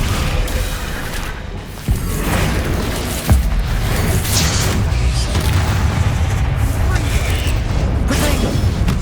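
Spell casting and explosions from the Hogwarts Legacy video game, with the Descendo spell among them: continuous dense rumbling booms and crashes with sharp impact thuds near two and three seconds, loud throughout with faint game voices mixed in.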